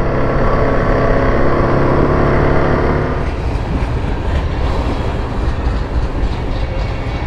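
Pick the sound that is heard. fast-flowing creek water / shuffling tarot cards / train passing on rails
train passing on rails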